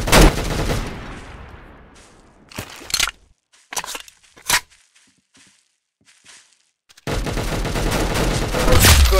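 Gunfire in a Roblox Arsenal tournament match: a loud volley opens, then scattered single shots crack through near silence before sustained heavy firing resumes to the end.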